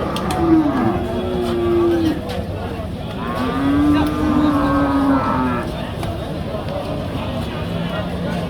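Cattle low repeatedly at a busy bull market in Jessore, Bangladesh, where Shahiwal, Sindhi and crossbred bulls are sold. The long, moaning calls stand close and loud over a constant murmur of crowd noise and voices.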